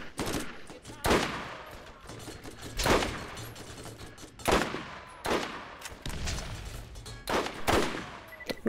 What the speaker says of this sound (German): Ich prüfe gerade die Genauigkeit meiner Sniper, die nicht wirklich gut ist.